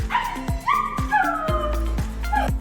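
Police detection dogs barking and yipping in several sharp, repeated calls with some whimpering, close and fairly loud, with a constant low hum underneath.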